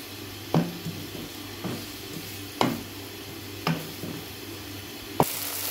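Onions frying in a pan until golden for a Punjabi stuffed tinda dish: a soft steady sizzle with periodic stirring scrapes of a spoon in the pan, fairly quiet.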